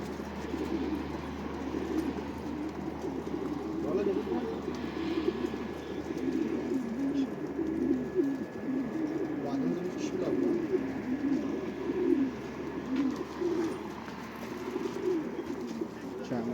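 Pigeons cooing in low, throaty murmurs during a training flight in bad weather, a continuous flock sound with people talking faintly in the background.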